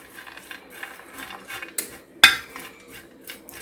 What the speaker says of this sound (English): Then we just need to get it all stirred together